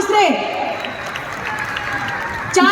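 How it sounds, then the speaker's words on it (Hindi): An audience at a mushaira poetry gathering claps in a steady round of applause, a broadband patter between stretches of someone speaking at the start and end. "ये आपकी तालियां मुझे बताएं"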